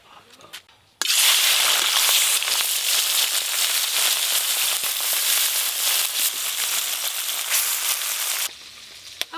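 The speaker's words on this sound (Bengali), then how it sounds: "পুঁটি মাছগুলো ভেজে নেব" Small puti fish, rubbed with salt and turmeric, hit hot oil and a loud, dense sizzle bursts out abruptly, holding steady for several seconds before cutting off near the end.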